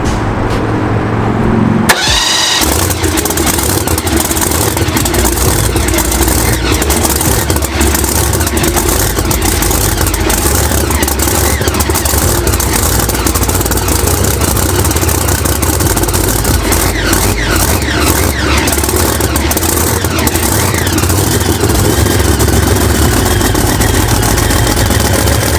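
Car engine cranking and firing up after ignition timing adjustment, then idling loud and steady with a rough continuous rumble and a faint fluctuating whine over the long run.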